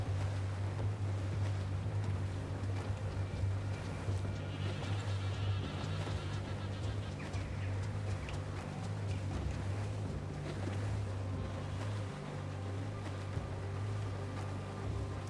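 A sailing ship moves across the open sea in Assassin's Creed IV Black Flag, with a steady wash of waves, wind and creaking hull that stays continuous and even throughout.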